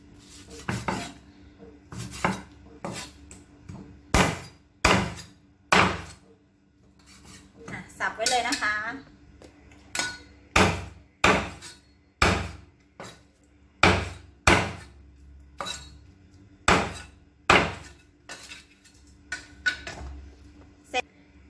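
A heavy cleaver chops chicken repeatedly on a cutting board, sharp loud thwacks at an uneven pace, with a brief stretch of talking in the middle.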